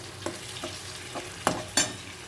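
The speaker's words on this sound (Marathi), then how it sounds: "आता ह्याला मस्त तेलामध्ये परत द्यायचे बघा ते आपण तेलामध्ये ना परतून तयार" Fish sautés in hot oil in a pan, a soft continuous sizzle with four or five distinct scraping stirs, the last two louder, and no one talking.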